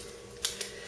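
Small butterfly-style knife sharpener with coarse and fine stones flipped open by hand, giving two quick metallic clicks about a sixth of a second apart, close and crisp over a quiet room.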